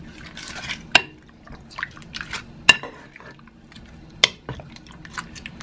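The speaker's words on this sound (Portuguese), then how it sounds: "Acrescentar algumas folhas de louro. Dar uma misturadinha." A spoon stirring pork with garlic, bay leaves, vinegar and soy sauce in a pot, wet sloshing and scraping with a few sharp clinks of utensil against the pan, close and intermittent.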